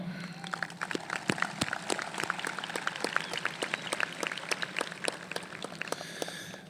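An audience claps steadily and fairly loudly at a 2020 high school graduation ceremony, with a dense patter of individual claps continuing throughout.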